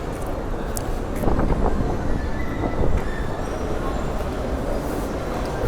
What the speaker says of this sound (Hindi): ये है बुसान का रेलवे स्टेशन